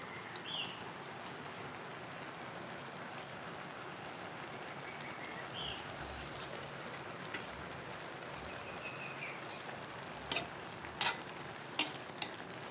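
Pakbet vegetables cook in a pan with a steady soft sizzle and stirring, with a few sharper scrapes or clinks near the end.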